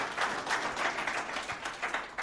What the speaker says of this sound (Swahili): Tupige makofi jamani.